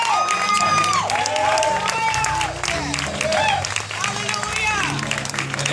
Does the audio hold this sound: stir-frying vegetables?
no